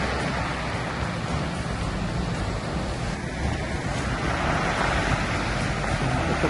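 Cold Pacific waves breaking on Oceanside Beach, California: a loud, continuous roar of surf with wind buffeting the microphone, steady throughout and without talk.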